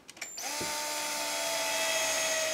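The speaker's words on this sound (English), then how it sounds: "Come in with my screwdriver drill." A cordless screwdriver drill whines up and runs at a steady high pitch, driving a screw to fix a D-ring hanger after a few short clicks.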